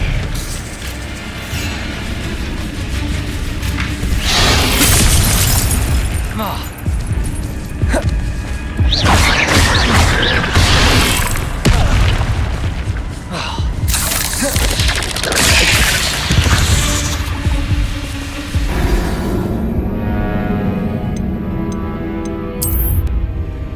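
Spell effects in Hogwarts Legacy crash and boom in quick succession, loud bursts, whooshes and thuds layered over a dense rumble with brief lulls between volleys, near and forceful throughout.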